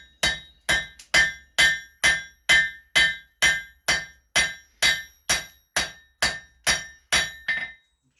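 A hammer strikes a pair of forging tongs on the sharp edge of an anvil, ringing out about fourteen loud, evenly spaced metallic blows close up, with no talk.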